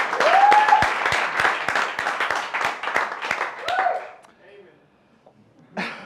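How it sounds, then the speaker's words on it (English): A demo day crowd at a Bali coding bootcamp claps and whistles in a loud, dense burst that thins out after about four seconds, leaving near silence before a brief voice. "So let's just give them a round of applause"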